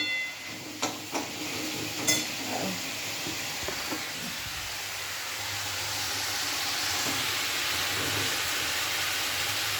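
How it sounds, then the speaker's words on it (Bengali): Onion, green chili and nigella seeds frying in a pan as a base for prawns, heard as a steady hiss that builds and holds, with a few sharp clinks of utensils early on and no talk. "কিছু ভাজা হচ্ছে পেঁয়াজ কাঁচা লঙ্কা কালো জিরে ফোড়ন দিয়ে চিংড়িটা ভাজা করবো চলো ভাজা হোক"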